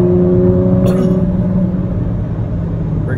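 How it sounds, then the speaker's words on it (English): A Ford GT twin-turbo supercar engine with 647 horsepower growls under acceleration inside the cabin, a deep, loud rumble with tonal drone that eases slightly midway. "that engine just growls and spits out horsepower"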